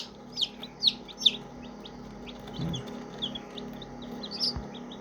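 Native mixed-breed chicken chicks peeping in a few sharp, high chirps, clustered early and again near the end over a quiet background, fairly close and soft, with no talk.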